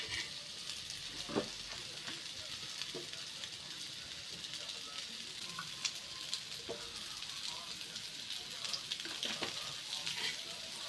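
Fish pieces coated in semolina fry in a little oil, a faint continuous sizzle with occasional crackles and small knocks. Quiet speech is heard now and then.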